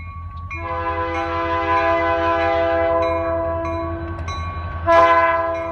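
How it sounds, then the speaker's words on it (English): A Pan Am Railways local freight train heading west through a salt marsh rumbles past steadily while its horn blows long, loud sustained chords, with a fresh louder horn blast near the end. "A Dover local heads west through Scarborough Marsh."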